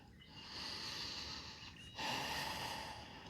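During a legs-and-hips yoga stretch, slow audible breaths pass close to the microphone: one long soft exhale, then a brief pause and a second, stronger breath, quiet and alone.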